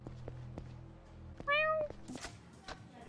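A cat meows once in a Yakuza 0 alleyway, a clear bright meow rising out of quiet game ambience with soft thuds and a voice speaking around it.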